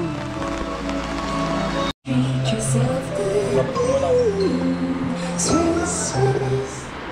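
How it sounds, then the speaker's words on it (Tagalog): Heavy rain strengthens and pours in a steady, dense roar, with faint voices and tones in the background. "Lumakas na ang ulan."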